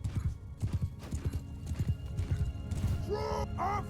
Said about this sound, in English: Horse archers coming in again.